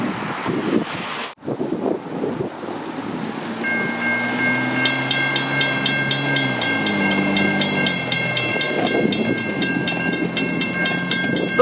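A train pulled by an N-class locomotive approaches over wind buffeting the microphone, its deep engine rumble building while a mechanical crossing bell rings in fast, steady strokes through the second half.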